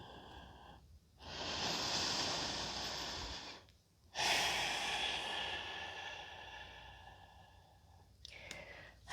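Deep yoga breathing up close: a long, airy inhale and then a slower, extended exhale, soft and unhurried, with no talking.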